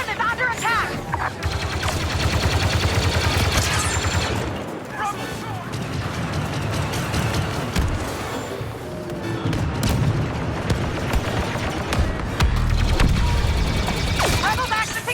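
Continuous heavy gunfire and booming blasts, including a grenade explosion, in the video game Star Wars Battlefront II (2017), a loud, chaotic battle mix with voices talking over it throughout.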